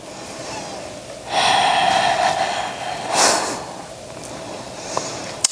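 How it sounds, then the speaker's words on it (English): Deep yoga breaths, a long forceful exhale rushing through the nose and mouth, then a shorter second breath, close and alone in a quiet room. "One more breath."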